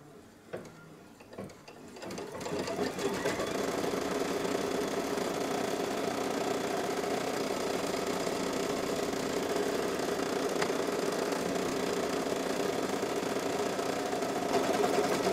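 An embroidery sewing machine stitching a quilting tack-down through batting, starting after a quiet moment and then running as a steady, close mechanical whir and rapid needle chatter.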